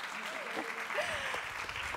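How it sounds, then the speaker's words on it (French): Audience applause fills a French award ceremony for a children's kamishibaï storytelling contest, a steady dense clapping with a voice briefly audible over it. "Alors on va vous applaudir encore bien fort pendant que vous rejoignez votre place."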